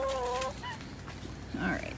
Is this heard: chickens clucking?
yes